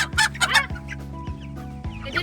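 Several chickens in an enclosure cluck nearby in short, repeated bursts with a steady, busy rhythm; no talking is heard.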